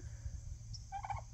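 A wild turkey at a shop lets out one brief, rattling gobble near the end, fairly close, over low background rumble.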